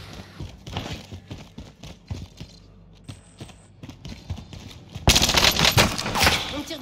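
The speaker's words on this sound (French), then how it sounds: "On me tire dessus!" Rapid bursts of automatic gunfire in the Call of Duty Warzone video game, crackling in clusters at moderate distance before a louder, denser burst near the end, with no speech over it.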